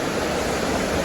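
A river rushing steadily past a campsite at Ulu Kelong, a continuous broadband wash of flowing water that stays loud and even throughout, with no voices.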